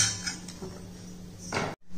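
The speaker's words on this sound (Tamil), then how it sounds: "பிளேட்டில் மாற்றிக்கிறோம்" Roasted walnuts are tipped from a hot kadai onto a plate, giving soft clinks and scrapes of metal and nuts close by, ending in a brief louder clatter before sudden quiet.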